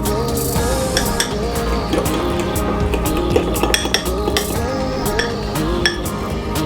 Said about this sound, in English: Mix all of the ingredients together.